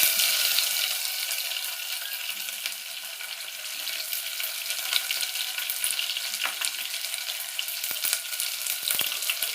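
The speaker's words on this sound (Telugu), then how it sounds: "కొంచెం జీరా, కరివేపాకు చిరపట్లు అయిన తర్వాత మనం కట్ చేసి పెట్టుకున్న ఆనియన్స్," Chopped onions frying in oil with cumin seeds and curry leaves for a puri curry, a steady loud sizzle with faint stirring scrapes throughout and no talk.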